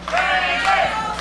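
A wrestling crowd at a CWF Mid-Atlantic event cheers and shouts to rally Brandon Day back to his feet, a sustained swell of many voices with rising yells, heard at some distance in an arena.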